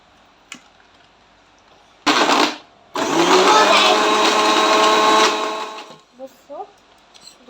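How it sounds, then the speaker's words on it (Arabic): A kitchen blender mixes an Oreo milkshake in two loud bursts: a brief pulse, then a sustained whirring run of about two seconds that winds down. A voice follows afterward. "ونروح إلى الخلاط."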